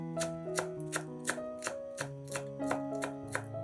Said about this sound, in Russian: Пучок петрушки измельчаем ножом.